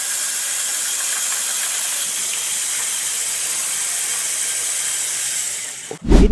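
A small LEGO motor drives a dual-wheel drive model car up a slope studded with spikes, giving a steady whirring hiss that runs nearly throughout before a short clattering knock at the end.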